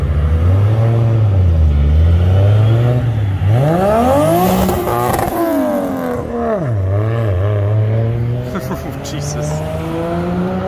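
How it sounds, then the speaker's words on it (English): A Toyota Supra revs hard as it pulls away from a Cars and Coffee meet in Brisbane, loud and close, its engine pitch climbing and dropping through several rises and falls, with voices faintly in the background. "here's a Supra."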